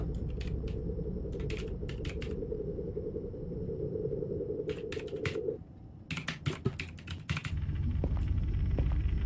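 Keyboard typing while entering a chat message in the horror video game Fears To Fathom: Home Alone, with quick bursts of keystrokes and pauses over a low room rumble, close and clear with no talking.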